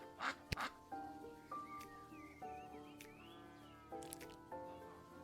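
Two quick, loud duck quacks sound at the start, followed by sustained tonal music with no voices.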